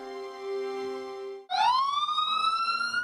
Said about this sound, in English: The first signals were sirens, a promise that help was on the way.